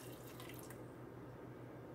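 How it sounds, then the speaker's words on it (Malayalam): A quarter cup of water pours into an Instant Pot during a pineapple pachadi recipe, giving a short, soft, continuous splashing trickle with no talk. "ഇനി ഞാൻ ഇതിലേക്ക് ഒരു 1/4 കപ്പ് വെള്ളം ചേർക്കുന്നുണ്ട്"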